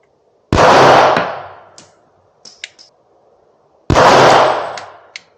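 A CZ P07 or P10F pistol fires two loud, sharp shots a few seconds apart. Each has a long, fading echo, and small metallic clicks fall between them.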